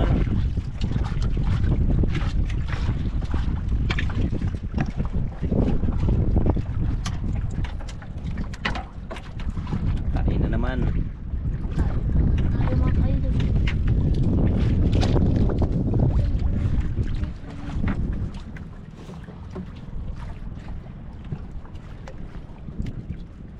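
A strong amihan monsoon wind blows at sea, roaring and buffeting loudly and continuously, with the rush easing a little now and then.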